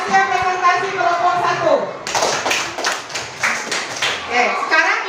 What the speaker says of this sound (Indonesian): Beri tepuk tangan untuk hasil presentasi kelompok